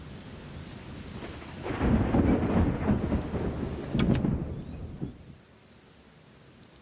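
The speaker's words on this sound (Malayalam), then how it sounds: "എന്തൊരു നശിച്ച മഴയാണ്" Heavy rain with rolling thunder, a steady downpour swelling into a loud thunder rumble that fades after several seconds, leaving quieter ambience.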